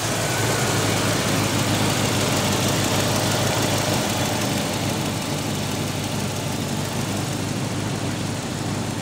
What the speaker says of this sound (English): You can hear the V8.